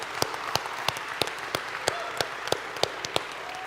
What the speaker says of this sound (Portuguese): com uma salva de palmas em nome de Jesus.